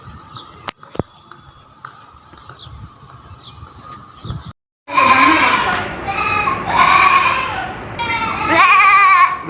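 A Beetal goat at a goat market, bleating loudly and repeatedly at close range in long wavering cries, after a quieter stretch of market background noise.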